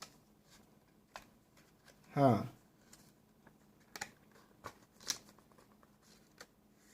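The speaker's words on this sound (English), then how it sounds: "gotta use a quarter right here and cut the tape" A coin scrapes and rips through packing tape, with a short tearing rasp followed by scattered light clicks and rustles close by during quiet unpacking, with a voice briefly present.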